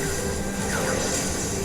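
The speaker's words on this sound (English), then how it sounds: "Oh, train tracks." A train rolls past on the tracks in Final Fantasy XIV's Tower at Paradigm's Breach, a loud, continuous rumble and rattle with some metallic tonal ringing throughout.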